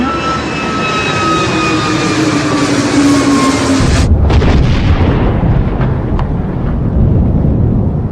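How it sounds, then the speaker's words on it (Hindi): Airplane on a flight from Mumbai to Baramati, with a steady loud engine drone and whining tones that break off about halfway into a harsher, rumbling roar, suggesting the crash. "कुछ इस तरह से यह विमान क्रैश हुआ।"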